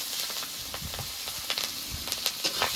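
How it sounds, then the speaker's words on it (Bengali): Chopped green chillies sizzle and crackle in hot oil while cooking a rohu fish curry with small taro, a steady frying hiss with sharper pops and occasional stirring scrapes. "এবার কেটে রাখা কাঁচা লঙ্কাটা তেলের মধ্যে দিয়ে দেবো"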